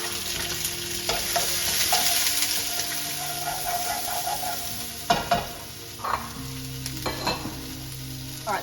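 Vegetables stir-frying in oil in a casserole dish heated on high, a steady close sizzle with stirring scrapes and clatters of utensils, several louder knocks near the end.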